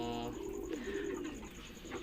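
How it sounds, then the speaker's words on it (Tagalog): Taiwan pigeons kept for auction give soft, repeated low coos, close by and fairly quiet, with a faint steady hum in the background and no speech. "ito nga yung mga ibon mga kalapatids na ipapa-auction ko"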